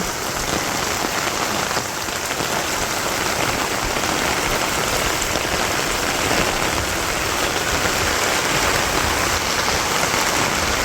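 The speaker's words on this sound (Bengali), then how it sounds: "গ্রামগঞ্জের বৃষ্টি বাদল" Constant heavy rainfall in a village, an even wash of drops drumming on surfaces with no voices, loud and unbroken throughout.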